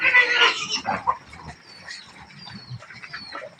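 Pigs in a pen grunt and squeal, a loud high squeal up front followed by scattered low grunts and snorts at close range, with no talking.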